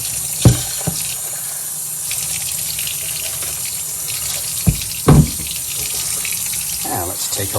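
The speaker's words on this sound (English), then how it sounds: "Let's get the water running." Water runs steadily from a kitchen sink faucet as a continuous bright hiss, broken by a few sharp clunks and knocks nearby.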